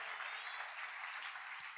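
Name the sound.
church congregation applauding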